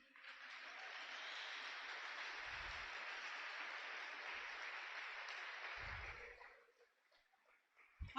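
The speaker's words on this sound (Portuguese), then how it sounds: "pode aplaudir ao Senhor" Congregation in a church breaks into steady, dense applause that holds for about six seconds before fading out, with a few low thumps along the way.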